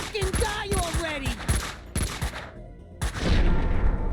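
Rapid bursts of gunfire in the Max Payne 2 video game, sharp repeated shots close and loud, with a voice shouting briefly between volleys and a heavier blast near the end.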